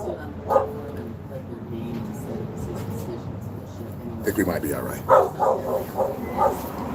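A dog barks and yips repeatedly in the background, the barks growing more frequent toward the end, while someone talks over them.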